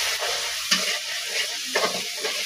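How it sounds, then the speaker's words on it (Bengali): Spices with cumin powder and salt are stirred in a hot pan while cooking mustard hilsa fish, giving a steady close sizzle with a few scraping stirs. "এবার এগুলো দিয়ে আমি ভালো করে একটু কষিয়ে নিব"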